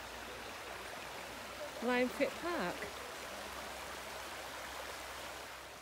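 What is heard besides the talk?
river flowing next to a field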